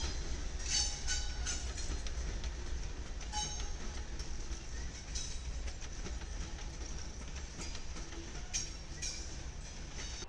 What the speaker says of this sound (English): we have a Union Pacific westbound manifest